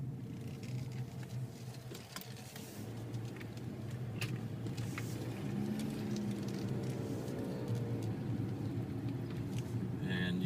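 A car drives along and makes a right turn onto a residential street near a school on a morning commute, with a low steady road and engine hum under intermittent talk.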